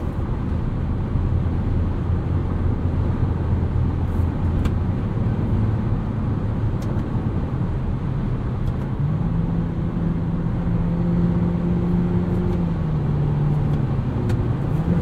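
Steady broadband rush of wind and road noise fills the cabin of a 2022 Mitsubishi Eclipse Cross SEL 4WD cruising at speed, with a low engine drone shifting pitch underneath, continuous and moderately loud without speech.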